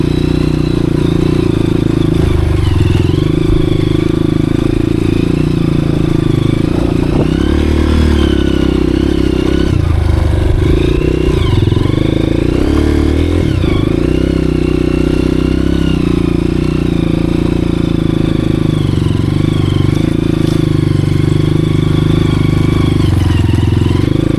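A Honda CRF 230F dirt bike grinds along a rough mountain trail in first gear, its engine droning loud and close with repeated swells of throttle and clattering dips over a long stretch.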